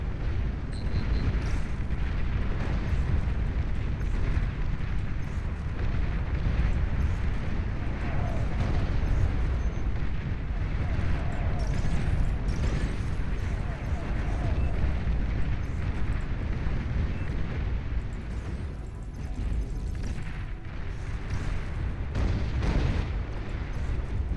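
Artillery fire and explosions fill a battle in the strategy video game Beyond All Reason, a constant heavy rumble of overlapping booms and blasts that keeps going throughout.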